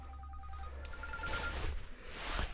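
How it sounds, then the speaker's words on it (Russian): A phone rings with an incoming call inside an ancient stone temple, a repeating electronic tone pattern under a low background hum, fairly near and moderately loud. "Кто-то звонит мне."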